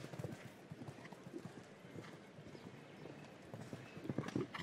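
A light horse gallops around a show-jumping derby course, fast rhythmic hoofbeats on turf heard at a moderate distance over faint crowd ambience.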